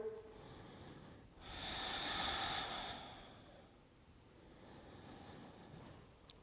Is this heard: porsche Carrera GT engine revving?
no